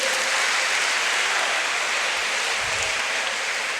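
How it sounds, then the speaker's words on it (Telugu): An audience claps after a count to ten at a career-goals study session: a dense, steady wash of many hands applauding together, loud and sustained with no break. "10 అనే శబ్దం వినిపించిన తర్వాత చప్పట్లు కొట్టాల"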